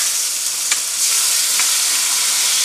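Onion, green chili and tomato stir-frying in a pan for homemade Manchurian, giving a loud, continuous sizzle broken by a few short scrapes of a spoon.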